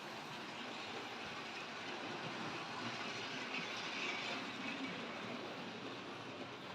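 A model railway locomotive with a slightly squeaky tender runs continuously past the listener, giving a steady, close whirring rumble with a light clatter and a faint squeal.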